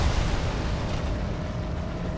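Continuous rumbling explosions and booming blasts in the video game Halo 2, a dense, loud wash of gunfire and detonations with no talking.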